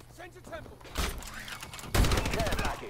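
Short bursts of automated turret fire in Call of Duty Advanced Warfare, loud sharp rattles starting midway and continuing to the end, with game voices and effects underneath.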